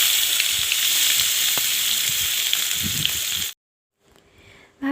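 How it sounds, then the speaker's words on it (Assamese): Squeezed bamboo shoots sizzle steadily in a hot pan with dried chillies as they fry for an Assamese fish curry. The loud frying runs continuously for a few seconds, then cuts off abruptly, leaving near silence and a faint return of sizzle. "চেপি লোৱা বাঁহগাজখিনি মই ইয়াতে দি দিছোঁ।"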